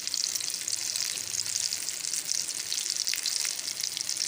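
Shami kebab sizzles steadily in hot oil in a pan while it is gently turned over, a loud, constant close-up frying hiss with faint soft scrapes.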